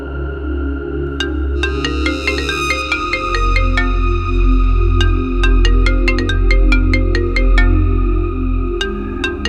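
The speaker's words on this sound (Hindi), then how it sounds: "अरे तेरी गर्लफ्रेंड का ही फोन आ रहा है" A mobile phone ringtone chimes loudly and up close, a bright repeating melodic pattern of tones playing continuously over a low background hum, with no speech.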